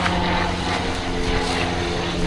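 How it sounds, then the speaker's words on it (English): Steady broadband engine roar of an airplane flying overhead at a tractor museum, loud and continuous with a low droning hum throughout. "Daddy, look, airplane."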